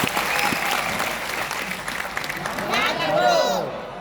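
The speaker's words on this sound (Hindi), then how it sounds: "जोरदार तालियां" Loud audience applause at a business training program in Jaipur, a dense continuous wash of many clapping hands lasting about four seconds, with crowd voices and cheering mixed through it.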